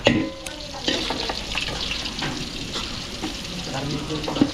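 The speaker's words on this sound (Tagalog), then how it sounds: "So yung butter, inahaluan natin siya ng konting mantika." Butter frying with a little cooking oil in a pan for chicken pastel, a steady close sizzle with light stirring scrapes throughout, in a catering kitchen.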